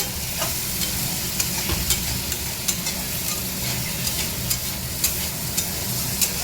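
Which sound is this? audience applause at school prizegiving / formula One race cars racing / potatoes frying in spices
potatoes frying in spices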